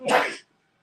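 A single sharp sneeze bursts out close by, loud and breathy for under half a second, then cuts to near silence.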